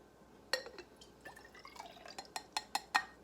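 Green-tinted water is poured carefully into a measuring glass, giving quiet drips, trickles and small glassy clinks that grow denser toward the end.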